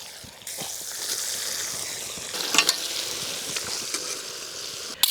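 Pearl spot fish (karimeen) fry in a pan of hot oil with a steady, close sizzle, broken by a few brief stirring clatters and bubbling pops.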